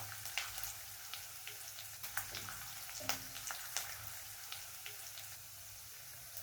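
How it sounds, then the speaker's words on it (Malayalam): Onions sizzle in a pan while being sautéed toward light golden for a Kerala-style drumstick leaves curry, a faint steady crackle with scattered soft pops and no talk. "ഒരു ലൈറ്റ് ഗോൾഡൻ കളർ ആകണം വരെ ഒന്ന് വഴറ്റുക."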